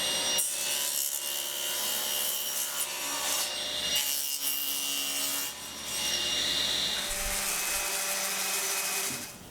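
Wood pieces ripped to width for a small shop cabinet, a continuous loud rasping cut with a brief pause midway, no talk.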